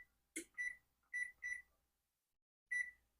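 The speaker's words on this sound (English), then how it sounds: "And I'm going to set my timer for 10 minutes." An oven timer in a home kitchen beeps in short bright electronic pulses, a few single and paired beeps with pauses between, close and clear against silence.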